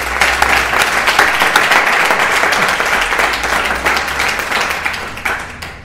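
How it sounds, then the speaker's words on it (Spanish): Audience applause at a book presentation event, a dense, steady burst of many hands clapping up close that carries evenly through the whole stretch before tapering slightly at the end. "un aplauso para él"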